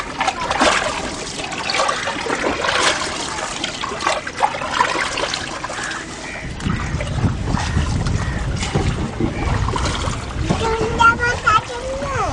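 Water laps and splashes around a boat on Phewa Lake, with steady close trickling and sloshing throughout as people talk nearby.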